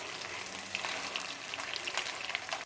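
Makhandi halwa being stirred continuously with a spoon in a non-stick pan, giving a soft steady sizzle with faint scraping, quiet and without talk.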